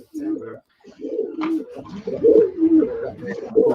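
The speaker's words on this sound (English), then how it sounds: "It almost sounds like those pigeons are pre-recorded for some reason" Pigeons cooing as a video game sound effect, a string of soft, throaty warbling coos repeating close up in uneven bursts with short pauses.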